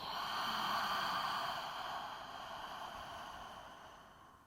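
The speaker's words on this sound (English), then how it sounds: "One more full breath in, please. And then exhale all the way out." A full, slow breath pushed all the way out during a core exercise session, a soft airy exhale that holds steady and then gradually tapers off.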